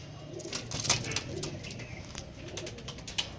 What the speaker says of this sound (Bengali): জোড়া করা পায়রা দেখো